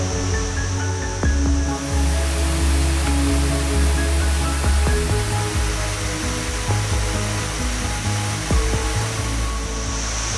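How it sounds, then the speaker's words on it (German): The Kuang Si (Guangxi) waterfalls near Luang Prabang, Laos roar as a steady, loud broadband rush of falling water, continuous throughout with no voices. "Und hier befinden sich die wahrscheinlich schönsten Wasserfälle Südostasiens, die Guangxi-Wasserfälle."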